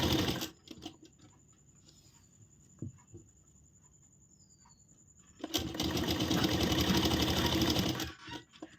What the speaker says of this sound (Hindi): अब हम सिलाई शुरू करेंगे